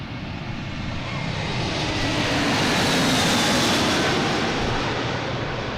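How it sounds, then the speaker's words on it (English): A JetBlue Airbus A321 jet comes in to land at Boston Logan airport, its loud, broad engine roar filling the whole stretch and swelling slightly toward the middle, with no voices. "We have an A321 JetBlue coming in from Aruba,"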